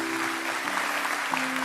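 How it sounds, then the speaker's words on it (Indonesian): Church congregation at a Sunday worship service in Surabaya applauding, a soft, steady wash of clapping with a sustained low keyboard-like tone running underneath. "Kasih tepuk tangan buat Tuhan."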